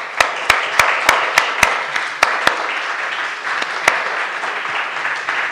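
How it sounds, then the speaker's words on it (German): Audience applause at the end of a talk at a Sunday matinée lecture event, a steady wash of many hands clapping continuously throughout, with a few sharper, louder claps standing out near the start. "Es kann noch lauter werden und noch länger dauern, das Klatschen"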